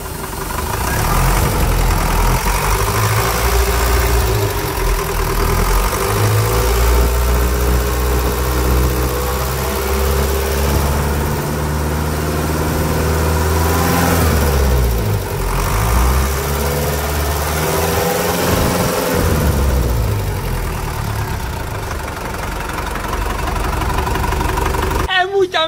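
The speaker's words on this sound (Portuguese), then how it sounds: "Eis a melodia do motor da Bandeirantes." A 1980 Toyota Bandeirante's Mercedes M314 diesel engine runs steadily with a deep, rhythmic rumble, revving up and settling back, close by and loud throughout.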